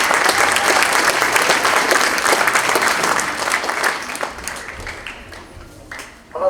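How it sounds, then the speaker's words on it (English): Audience applause after a middle school jazz band performance at a winter concert, a loud, dense wash of clapping that holds steady and then slowly thins out, with a faint voice near the end. "Give one more round of applause."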